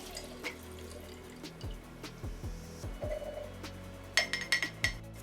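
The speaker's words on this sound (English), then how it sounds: "Just simply swirl it around, give it a little jostle, and then pour it into your jar." Turpentine swirled in a container and poured into a glass jar, giving close liquid sloshing and trickling with several bright clinks of glass toward the end, no speech.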